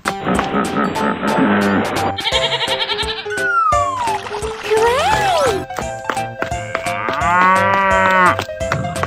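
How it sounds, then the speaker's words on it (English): A cartoon cow moos in a children's animal song with painted animals, sung over bright music with children's voices and other playful animal calls, the low bovine lowing mixed into the busy, loud track. "Cow."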